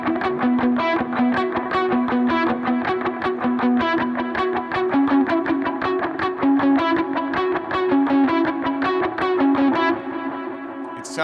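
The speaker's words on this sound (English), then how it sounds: "So if I play a riff like this," A palm-muted riff on a distorted electric guitar, with steady, rapid chugging notes repeated for about ten seconds in a tight, driving rhythm; loud and close with no talk.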